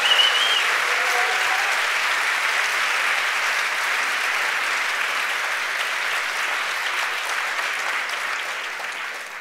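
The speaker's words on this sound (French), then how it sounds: "un applaudissement à tous les bénévoles" Sustained audience applause for event volunteers at a French-language talk on epigenetics, a dense steady clapping that fills the room and holds evenly before easing off slightly at the end.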